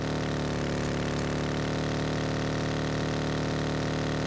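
Vehicle engine idling steadily in PUBG Mobile, a constant loud mid-pitched rumble with a faint click or two, no talk over it.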